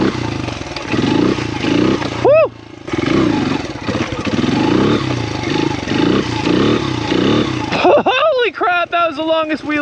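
A motorcycle roars through a long wheelie, engine revving loud and close with rising and falling pitch sweeps, wind buffeting and clatter throughout.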